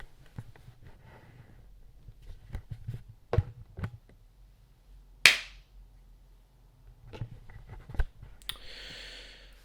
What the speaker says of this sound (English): I better do a clap just in case.